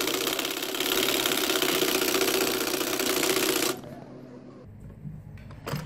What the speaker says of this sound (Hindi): अब जिस तरह मैंने यहाँ पे सिलाई लगाई है